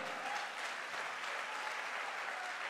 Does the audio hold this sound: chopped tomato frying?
no